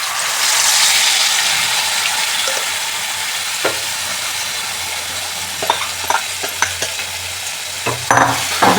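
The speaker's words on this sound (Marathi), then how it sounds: "आता आपण मटण फोडणीला देऊया." Mutton sizzles steadily in hot oil in a pan while being stirred and turned, with scattered scraping and clinking taps from the spoon later on and no talk.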